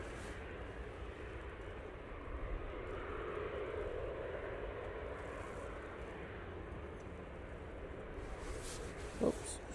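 A TUI airliner arriving from Bridgetown approaches Manchester Airport with a continuous, broad jet-engine roar that stays steady and fairly distant for about ten seconds, with a brief thump near the end.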